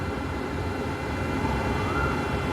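An airplane flies overhead outdoors, making a steady, fairly loud broad roar with a faint rising whine and no voices.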